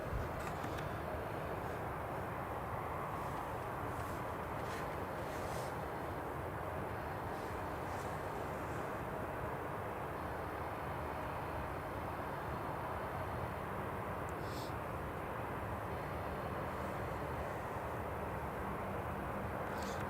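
A British Airways A320neo jet arriving from London Heathrow at Newcastle International Airport, heard as a faint, distant, steady broadband roar that holds for about twenty seconds.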